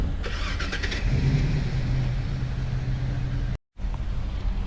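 A Packard car fitted with a Dodge 440 engine idles and revs loudly nearby at an outdoor car show, with a steady low rumble and a brief dropout near the end.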